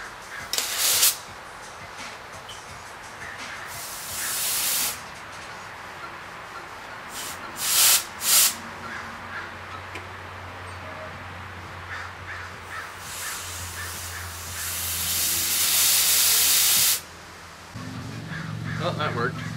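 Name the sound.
compressed air blown into 4Runner brake lines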